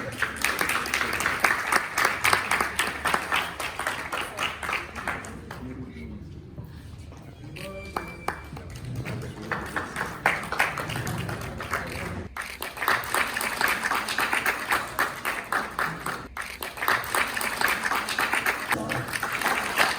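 Audience applause greets guests at a national conference welcome at JCD Vidyapeeth, a dense, steady clatter of many hands that fills most of the span, briefly thinning in the middle, with an announcer's voice over it.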